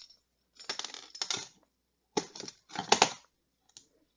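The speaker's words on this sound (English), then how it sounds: "Now this one I'm going to have to cut a little bit." Scissors cutting paper during a papercraft project: several bursts of crisp snipping and rustling, close and clear, separated by short silences, with no talking.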